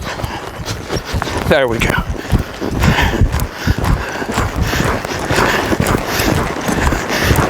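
A horse lopes under a rider, its hoofbeats a steady rhythmic thudding close by, mixed with creaks of movement, while the rider speaks briefly.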